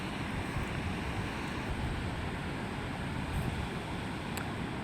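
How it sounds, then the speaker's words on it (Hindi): A strong waterfall on the route through Naran Kaghan pours heavily, making a steady, close rushing roar that stays even throughout, with no talking. "कदर ज़ोर से जो है पानी गिर रहा है, ये देखें आप"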